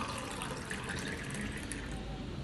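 Water is shaken inside a container, making a steady, dense sloshing and splashing that runs without pause at close range, with a faint voice in the background.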